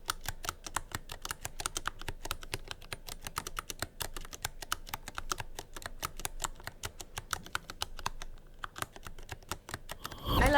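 Rapid, steady typing on a keyboard fitted with polished metal keycaps, a dense stream of crisp clacks with a faint metallic ping, close and even throughout, with no talk.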